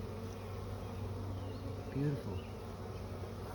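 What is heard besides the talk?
bees buzzing in a beehive colony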